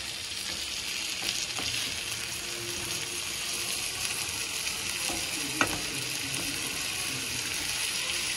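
Pike fish frying in a pan, a steady dense sizzle with occasional stirring clicks and scrapes, close and continuous.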